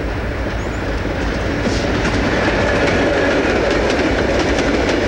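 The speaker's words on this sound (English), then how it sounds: "That's the Phoebe Snow coming out of Rose Hill Tunnel." Erie Lackawanna Phoebe Snow passenger train emerging from Rose Hill Tunnel near Port Morris, a loud continuous rumble with rhythmic clickety-clack of wheels on rail joints, close by and steady.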